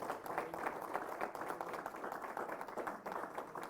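Steady applause from a church congregation, a soft, distant-sounding wash of many hands clapping continuously without pause.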